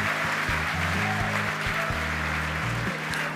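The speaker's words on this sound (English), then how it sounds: "The crowd's going nuts here at SpaceX headquarters in Hawthorne." Crowd cheering and applauding at SpaceX headquarters in Hawthorne during a Falcon 9 Block 5 launch, a steady wash of claps and cheers under a loud low droning hum.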